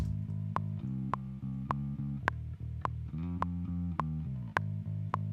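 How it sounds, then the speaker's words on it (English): Solo electric bass played fingerstyle, a steady line of plucked low notes with clear attacks and a few note changes, no other instruments. "It's a solid bass sound."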